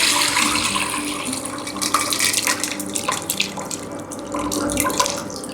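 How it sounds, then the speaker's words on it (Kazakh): Aklak and whey poured into a pot in a home kitchen, a steady liquid splash and gurgle running for several seconds, close and fairly loud with small surges. "Енді ақлақ пен сары суды құйып аламыз"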